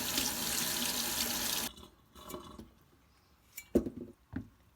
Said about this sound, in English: I'm going to wash the zucchini